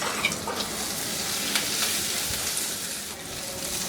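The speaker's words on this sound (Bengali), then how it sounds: "আমি এই পেঁয়াজের টুকরাগুলো দিয়ে দিব, আর আদা রসুন কুচিটা দিয়ে একটু ভেজে নিব।" Chopped onion, ginger and garlic fry in hot oil in a wok, a continuous crackling sizzle with scattered pops and occasional stirring scrapes, close and steady.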